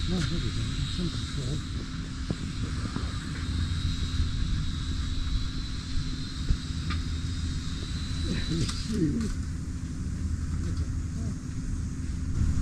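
E88 drone flying close by with a steady buzzing whine that holds throughout, joined by faint wind and background noise.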